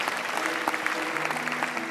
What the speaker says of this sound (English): Give God a clap.